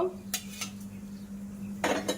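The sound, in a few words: whole spices being stirred in ghee in a pan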